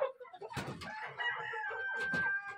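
Brahma chickens cluck and crow close by, with a sustained crowing note and short clucks mixed with rustling and other broadband noises.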